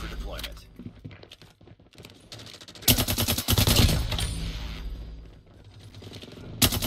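Striker 45 shotgun fire in Call of Duty Mobile, with loud clustered shot bursts and scattered single blasts against game noise, and a voice speaking between the shots.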